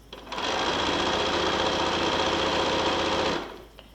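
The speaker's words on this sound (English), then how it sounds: "And you're going to sew the length of the row" A sewing machine stitches along the full length of a quilt row, one steady, loud run of about three seconds with no talking.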